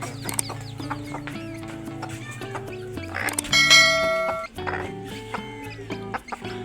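A group of six young chicken chicks makes repeated clucking and cheeping calls, close and fairly loud, in short overlapping bursts with a brighter flurry in the middle.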